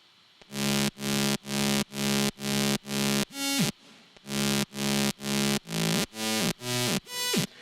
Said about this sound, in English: I've created a synth bass which sounds like this